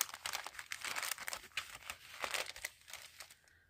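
Crunchy paper pages of a Valentine-themed junk journal being flipped and handled up close, producing soft, irregular crinkling and rustling bursts with no talking.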